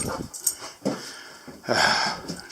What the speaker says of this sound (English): Now I've got scared dogs.